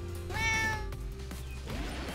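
A cat meows once inside a racing video game, the call ringing out clearly and fairly near over steady engine and track noise as a car passes an Istanbul-style course.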